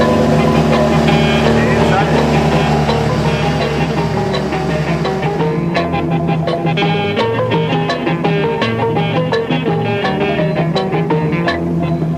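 On a Cambodian river, a long-tail boat motor mounted at the end of a long shaft drones loudly and steadily with a harmonic engine tone, while a voice talks over it.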